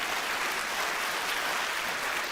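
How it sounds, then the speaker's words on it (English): A church congregation applauds its tech team in a steady wash of many hands clapping together, dense and even throughout with no talk. "can we just clap for them a moment?"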